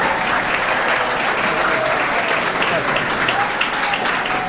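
Audience at a school Darbar ceremony clapping loudly and continuously, a dense, even roar of applause welcoming Colonel Muhammad Saeed to the stage.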